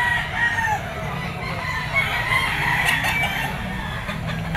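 Chickens and roosters at a crowded Grotto pet market, clucking and crowing amid a steady background bustle with no clear talk.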